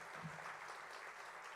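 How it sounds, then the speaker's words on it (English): An audience at a charity gathering gives a round of applause, a faint, steady wash of distant clapping lasting a moment. "You absolutely deserve a round of applause for that"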